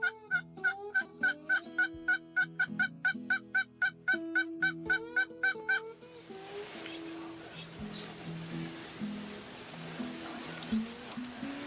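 Wild turkeys gobble from their roost about 200 yards overhead in a series of rapid, rhythmic gobbling calls, loud and clear, before the calls give way to a broad hiss of rain or wind.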